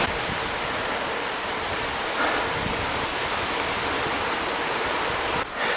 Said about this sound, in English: Just following the River Dee